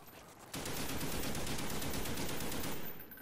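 An RPK machine gun fires in a Call of Duty zombies video game, a single sustained burst of rapid, evenly spaced shots that starts abruptly and runs for over two seconds before trailing off, loud and close.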